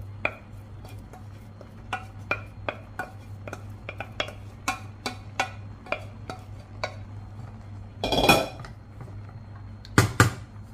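Smashed potatoes and spices are stirred in a pan, with a spoon knocking against the pan in a loose series of sharp taps, then a louder scraping clatter near the end. No one speaks.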